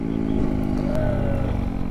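A Kawasaki Z125 motorcycle engine revs steadily while the rider holds a wheelie, a loud, continuous buzzing drone close by with a slight rising pitch near the middle.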